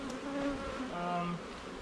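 Honey bees buzz around an open hive during a beekeeping inspection in Jamaica, a dense, continuous droning hum close by with wavering pitches and no talk.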